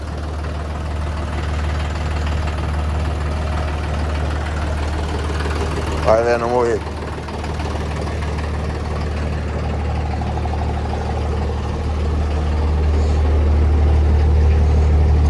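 A large tractor idles with a steady low rumble throughout, close by and continuous, while people talk quietly over it.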